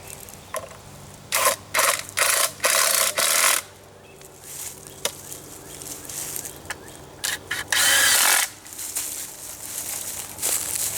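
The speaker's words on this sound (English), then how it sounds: "just a piece of 2x2, and I just screw it right on top of that" A power drill drives a couple of screws into a piece of 2x2 wood for a swarm trap stand, giving several loud bursts of whirring and grinding with short pauses between, close by and without talk.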